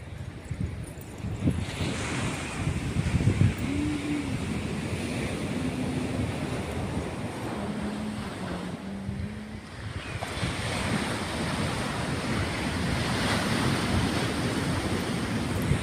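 Sea waves rolling and crashing on a beach shore with steady wind buffeting the microphone, a continuous broad roar of surf, near and loud throughout, no talk.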